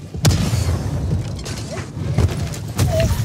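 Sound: armor-piercing support weapon shot fired in video game Helldivers 2

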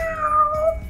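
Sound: voice imitating a cat meowing

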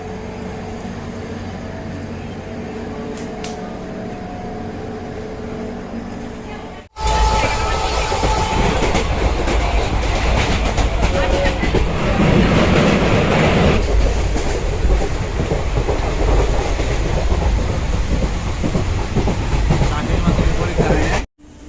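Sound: local train departing Sealdah station

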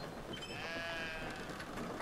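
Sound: sheep bleating in video game Brothers: A Tale of Two Sons

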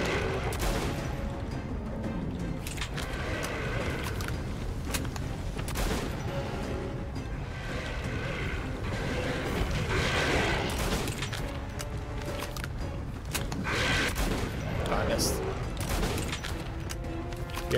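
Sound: shotgun firing in video game Metro Last Light Redux

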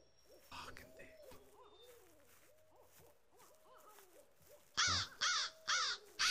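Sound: bird calls in a dinosaur horror video game

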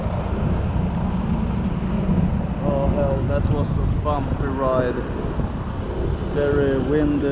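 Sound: small propeller plane in flight

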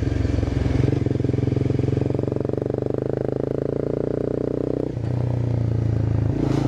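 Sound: Honda CBR 250 motorcycle riding

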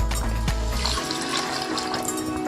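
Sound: water poured into a pressure cooker

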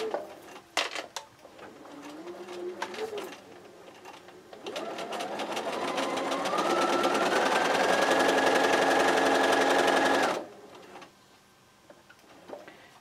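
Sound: sewing machine stitching seam

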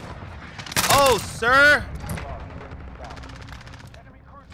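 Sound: MP5 submachine gun fire in video game Modern Warfare

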